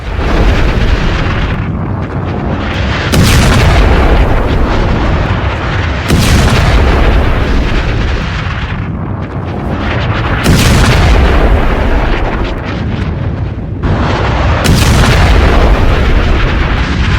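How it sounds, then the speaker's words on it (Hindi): Heavy artillery shelling during strikes on Beirut, Lebanon: about five loud, deep booms spaced a few seconds apart, each a sharp blast trailing into a rumbling roar over continuous low background noise. "नेतन्याहू एक एक कर गोले दाग रहे थे।"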